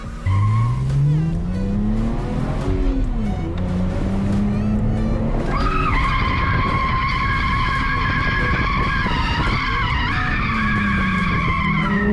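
A Nissan R31 drifts at a track day, its tires squealing and skidding in long wavering screeches over a loud, revving engine that climbs and falls in pitch, close and continuous throughout.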